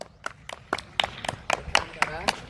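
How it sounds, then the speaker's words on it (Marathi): Applause for a player at an outdoor tennis ball cricket match: about ten sharp, evenly spaced claps, fairly close and moderately loud, over a faint background of voices. "अण्णासाठी जोरदार टाळ्या वाजवा."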